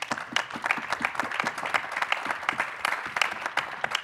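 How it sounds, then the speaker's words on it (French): Audience applause at a France-Japan hydrogen and carbon neutrality conference round table, a room of people clapping with distinct individual hand claps audible, moderately quiet and steady throughout. "je vous demande de les applaudir"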